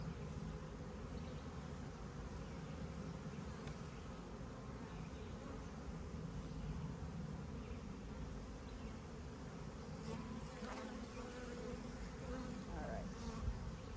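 A steady, dense hum of honeybees buzzing in an open hive with brood box frames, continuous and even throughout, moderately close, with no speech.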